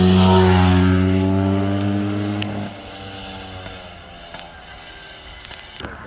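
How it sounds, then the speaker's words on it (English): Bultaco 350 trials motorcycle with a 5-speed transmission riding fast, its loud buzzing engine note strong at first, then fading as it pulls away into the distance, with faint knocks and clicks near the end. "I actually never seen a trials bike go that fast"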